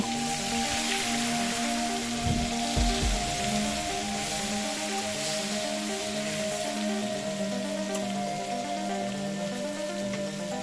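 Fish pieces fry in oil seasoned with turmeric and salt, a soft, continuous crackling sizzle like light rain, with a couple of dull low bumps partway through and no voices.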